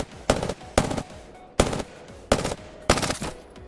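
Prowler burst weapon from Apex Legends firing five separate bursts at a steady rhythm, each a tight cluster of rapid shots, loud and close with short pauses between.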